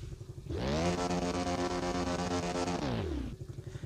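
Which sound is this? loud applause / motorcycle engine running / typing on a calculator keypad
motorcycle engine running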